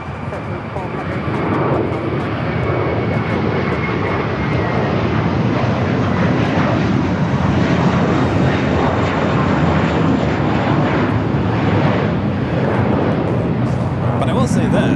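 A jet airliner takes off at LAX with a steady, powerful engine roar that stays loud and continuous throughout, and a faint voice comes through beneath it.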